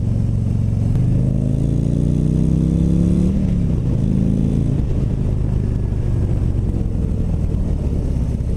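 A 2019 Harley-Davidson CVO Road Glide FLTRXSE on the move, its engine droning loud and steady with a brief rising rev early on before settling into a constant rumble over wind noise.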